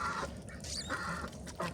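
Backyard chickens clucking in a muddy yard after rain, scattered calls rising and falling close by over steady outdoor noise, with a duck among the flock.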